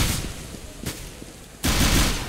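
AK rifles firing in a CS:GO match on Inferno, with a few sharp shots early and then a loud, sustained burst of automatic fire near the end.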